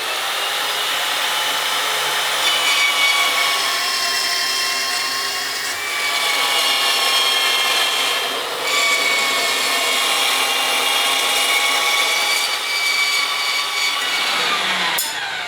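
Saw with a bimetal blade cutting hard steel for a bushcraft knife, a steady loud grinding whine with shifting metallic tones held continuously for about fifteen seconds, with no talk.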